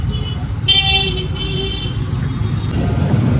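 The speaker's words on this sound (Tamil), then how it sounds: "ஐயோ ஐயோ, பயங்கர டிராஃபிக்குங்க காசியே ஃபுல்லாக." Dense street traffic in Varanasi rumbles steadily, with a bright car horn blast cutting in near the start and a sustained high tone later, loud and close with no talk.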